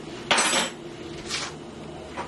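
A utensil scrapes and clinks against a pan while butter is stirred into shrimp étouffée, one longer scrape followed by two shorter, softer ones, close up with no talk.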